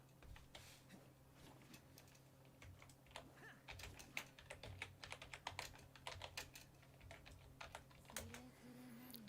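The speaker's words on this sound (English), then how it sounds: "Keep typing." Rapid, uneven clicking of fingers typing on a computer keyboard, close and fairly quiet, with irregular bursts of keystrokes and a low steady hum beneath, no talking.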